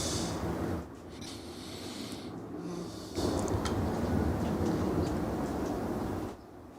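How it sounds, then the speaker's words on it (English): Trains passing near a croquet field at Mackey Park, heard as a steady low rumbling roar with shifting intensity, fairly loud and continuous through the whole stretch. "Gee, those trains make a big noise through the earphones."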